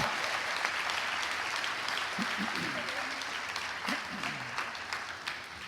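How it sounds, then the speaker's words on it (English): A conference audience gives a sustained round of applause at an annual conference opening, a dense, even wash of clapping from a large room with brief voices faintly audible beneath it. "Ladies and gentlemen, kindly join me in giving them a loud round of applause, please."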